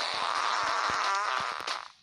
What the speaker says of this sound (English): Why are these people making fart noise?